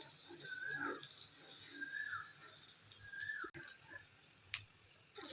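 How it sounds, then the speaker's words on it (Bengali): Prawn head and leg fritters frying in hot oil, a steady close sizzle and crackle running throughout, with a few faint higher squeaks over the hiss. "এবার এক পিঠ ভালো করে লাল করে ভাজা হতে থাক।"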